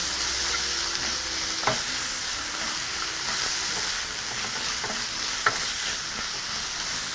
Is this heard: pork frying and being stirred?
yes